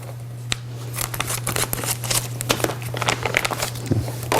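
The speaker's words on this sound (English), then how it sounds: "I guess now we need to get some scissors and open this up." Scissors snipping and rustling through plastic packaging up close, with crinkling and scattered clicks over a steady low hum.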